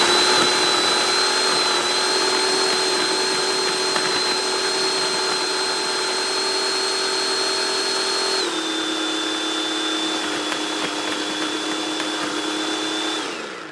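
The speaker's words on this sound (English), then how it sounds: "You shred the cheese with the food processor" A food processor shreds cheese with a loud, continuous motor whine heard up close. The pitch drops slightly partway through as the load changes, and the motor then winds down at the end.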